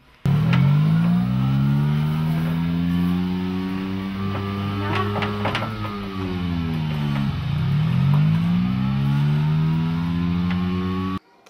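A young child imitates a big motorcycle engine with his voice, a loud, close buzzing drone that rises and falls in pitch like revving, sustained for about ten seconds with a brief dip midway.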